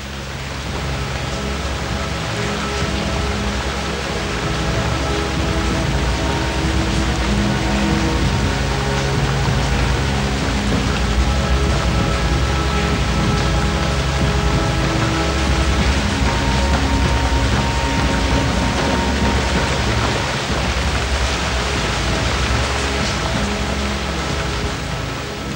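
Heavy rain pours down in a dense, unbroken roar, loud and close, with no voices or other sounds breaking through.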